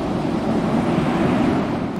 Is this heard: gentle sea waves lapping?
yes